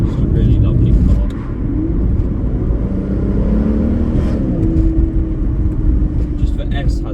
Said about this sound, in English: Just the S has so much more fruitiness to the exhaust